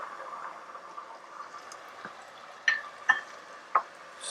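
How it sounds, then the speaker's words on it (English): A Greek burger mixture sautéing in a pan with Metaxa brandy stirred in, a soft steady sizzle broken by a few sharp scraping stirs of a spoon against the pan. "Stir that in, make sure it coats everything. And we're going to continue sauteing until most of that liquid is gone."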